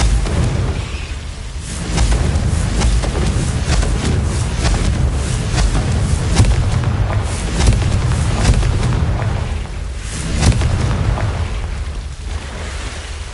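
Confringo blasting spells from a Harry Potter video game go off as loud, rumbling explosions, one after another, merging into a heavy, continuous roar of booms.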